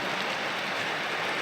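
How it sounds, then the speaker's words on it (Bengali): Heavy rain pours down in a steady, dense wash of noise with no breaks. "প্রচুর প্রচুর বৃষ্টি পড়ে যাচ্ছে"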